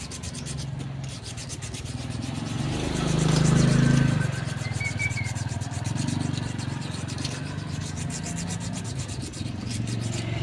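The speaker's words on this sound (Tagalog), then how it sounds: "Liha lang tayo." Close, repeated scraping strokes of sandpaper rubbing rust off a metal fan shaft, steady and rhythmic, with a slightly louder burst in the middle.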